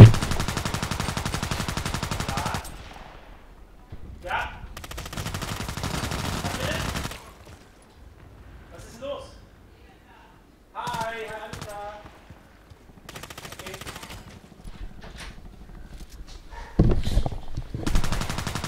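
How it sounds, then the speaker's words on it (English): A small machine gun in a sniper-themed video game fires in several loud, rapid bursts separated by pauses, with someone talking in between the volleys. "I wish I could use the MP5, but this is a small machine gun"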